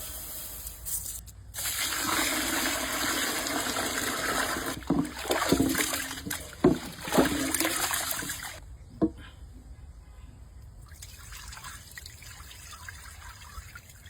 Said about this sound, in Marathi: तो आपण आता स्वच्छ पाण्याने पहिले धुवून घेऊ आणि त्याला भिजत टाकू